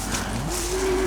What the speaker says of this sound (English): I can definitely hear another cow mooing.